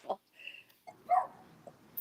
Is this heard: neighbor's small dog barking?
yes